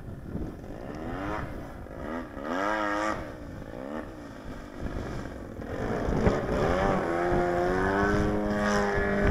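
Extreme Flight RC airplane's electric motor and propeller in flight, a steady buzzing whine that rises and falls in pitch as the plane swoops and passes, moderately near, with no talking.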